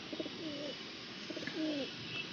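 Pigeons coo softly nearby in two low rolling phrases, faint under steady background hiss, with no talking.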